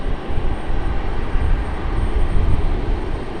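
A plane on final approach at Raleigh-Durham airport roars steadily, a loud broad engine rumble with no talk over it.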